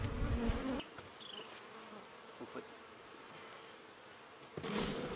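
Honey bees buzz around an opened hive and a frame feeder, a steady close drone with louder bursts at the start and end.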